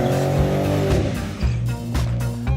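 A convertible sports car accelerates hard, its engine note climbing in pitch through rising harmonics, then dropping at a gear change and building again, loud and close.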